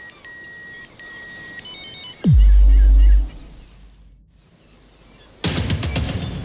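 A telephone rings in short electronic trilling bursts, two repeated patterns, followed by a sudden heavy boom and low rumble, then a burst of harsh noise near the end.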